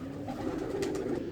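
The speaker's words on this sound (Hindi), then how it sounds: "ये बिल्कुल छोटा सा बेबी पिजन है" A baby pigeon gives a soft, low, continuous coo close by, with no other sounds over it.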